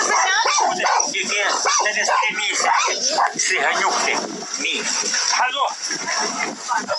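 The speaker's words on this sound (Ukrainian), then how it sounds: "У господарстві пана Олега, як виявилося, дев'ять песиків, п'ять котів та коза" Several dogs from a household of nine bark, yip and whimper close by, mixed in with steady talking throughout.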